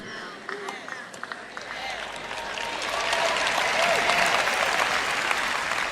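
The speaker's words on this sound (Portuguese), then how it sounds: "Foi um aplauso bem fraquinho, viu?" A church audience gives thin, scattered applause that swells somewhat in the second half, with a preacher's voice speaking over it.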